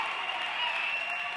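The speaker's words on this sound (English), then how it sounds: "Crowd is going crazy." A crowd at a girls' high school basketball game cheering and applauding in a steady, faint wash of noise.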